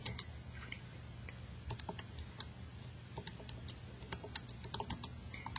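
Rapid, light plastic clicks as calculator keys are pressed, irregular and close, over a faint steady background hum.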